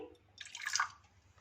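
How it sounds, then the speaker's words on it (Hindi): Water being poured into beaten eggs in a bowl while making a chilli garlic paratha, a short splashing trickle rising and fading over about half a second, quiet and heard alone. "100 ml इसमें पानी शामिल करेंगे।"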